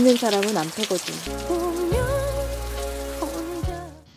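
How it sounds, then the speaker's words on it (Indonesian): Heavy rain falls outdoors in a steady broadband wash beneath a dramatic scene, mixed with a voice and sustained tonal music throughout. "hujan di luar sangat deras"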